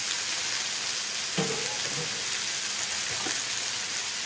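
Drained pork chop pieces seasoned with white pepper fry in a Tefal Oleoclean fryer, giving a steady, soft, hissing sizzle like light rain, with a few brief clinks of stirring.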